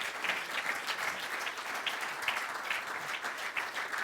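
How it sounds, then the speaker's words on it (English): A conference audience gives a round of applause for a panel at a policy summit, a steady wash of many hands clapping, somewhat distant and continuous from start to finish. "give an enormous round of applause to our"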